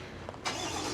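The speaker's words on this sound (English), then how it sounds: "Now it also has remote start" A 2025 Cadillac Escalade Sport fires up by remote start, a short cranking burst followed by the engine catching and settling into a steady, close idle.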